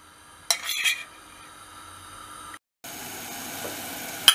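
Grated onion fries in a little oil in a pan, giving a soft, steady sizzle that runs throughout, with a short scrape of utensils on the pan near the start.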